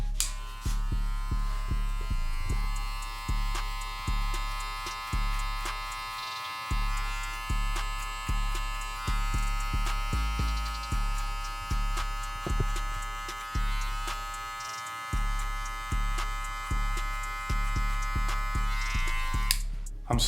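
Electric hair clipper buzzing during a burst fade haircut with a half guard, its loud steady drone rising and dipping in repeated strokes across the head, with brief pauses where it cuts out.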